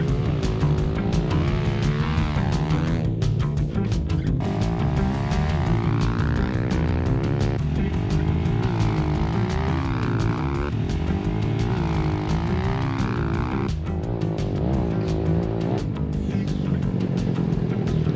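A Honda CRF230 motorcycle engine with a lightened flywheel and advanced timing revs steadily and loudly, its pitch rising and falling through repeated throttle blips close by, with no talk over it.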